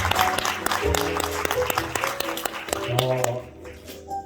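An audience at a private-school education conference claps in thanks for the guests, moderate scattered applause running under an amplified voice before tapering off.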